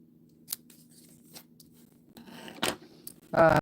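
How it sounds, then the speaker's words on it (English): Scissors snipping something off during a craft project: scattered sharp little cuts, then a louder closing snip near the end, with a faint hum underneath and no clear talk. "I'm just going to go ahead and cut this off because we don't need it"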